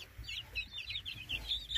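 A Silky hen gives soft low clucks among her newly hatched chicks, whose high peeps repeat throughout, close and steady.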